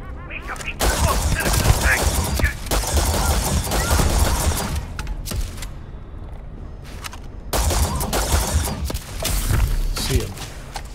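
Gunfire in the Starfield video game, bursts of rapid shots and impacts coming in dense clusters with short pauses between, loud and close, while someone talks over parts of it.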